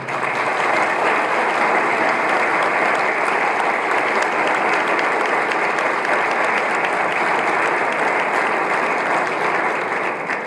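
Loud, sustained applause for an honored guest from a large crowd at a foundation's third anniversary event, a dense even roar of clapping lasting several seconds.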